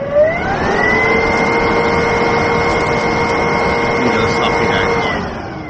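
Camper extractor fan running at high speed, a loud steady whirring drone with a sustained tonal whine that rises as it spins up, holds level, then starts to fade near the end.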